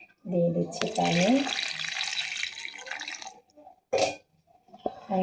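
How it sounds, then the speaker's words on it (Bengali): Water pours into an eggplant mixture in a bowl as a splashing stream that runs for a couple of seconds, then returns as a short burst. A brief voice comes just before the pour. "দিয়ে দিচ্ছি পানি"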